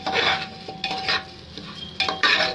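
Rice being stirred into a tomato mixture for veg pulao in a pan, with several scraping, swishing spoon strokes and a soft sizzle, close and fairly clear, no talking.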